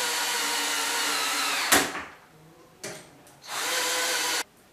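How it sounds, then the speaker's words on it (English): A power drill driving screws into an electronic laser device whirs at high speed, stops abruptly, then gives a short burst and a longer run before cutting off. "now I fix them with this drill"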